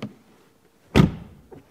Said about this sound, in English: First of all, door closing sound.